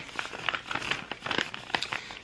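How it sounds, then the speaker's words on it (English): Paper being crumpled by hand, a rapid irregular run of crisp crinkles and crackles, close and fairly quiet, with no voice over it. "Sorry for the crumpling."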